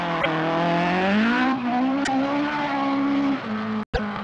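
A rally car at the 1976 Scottish Rally slides uphill on a hill climb stage, its engine holding a loud, steady high-revving drone that climbs gradually, with brief gravel crunches and a sharp dropout near the end.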